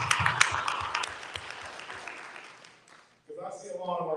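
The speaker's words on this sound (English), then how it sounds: "give yourself a round of applause" An evening audience of teachers, school staff and community members at an NAACP call-to-action meeting on saving schools gives itself a round of applause: steady, full clapping for about three seconds that fades out before a voice resumes speaking.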